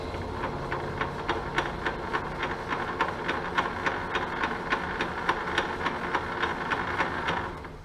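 A South Bend 13 x 54 inch tool room lathe runs in back gear, giving off a steady mechanical hum with a rapid, regular clicking beat, close and moderately loud, that fades slightly at the end.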